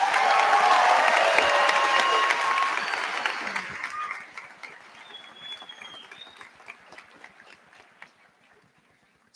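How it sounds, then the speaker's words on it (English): A commencement audience applauds the graduates with dense, sustained clapping that swells early and then gradually thins out and fades to scattered claps. "how about a round of applause for all the graduates?"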